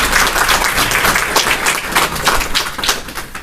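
Audience applause fills a hall during a spiritual talk about rising early for amrit vela meditation, a dense, steady patter of many hands clapping at close range throughout.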